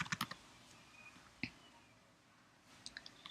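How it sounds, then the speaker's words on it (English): Soft keyboard clicks come in short clusters, a quick run of keystrokes at the start, a lone tap in the middle and another small burst at the end, faint and close in a quiet room. "And you just type it in."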